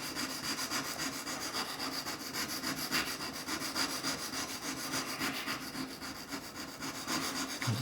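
A ruling pen is rubbed against wet and dry abrasive paper in a steady, continuous back-and-forth scratching, close and even in level, with no voices.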